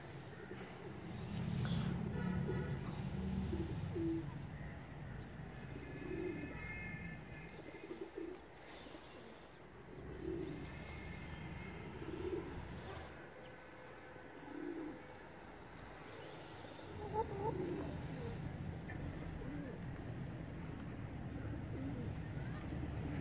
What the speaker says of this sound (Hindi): ये बेहतरीन परवाजी कबूतर है